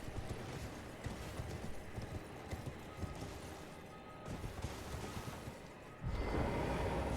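Steady clip-clop of horse hooves over a busy, noisy Elden Ring game soundscape, growing louder and heavier toward the end.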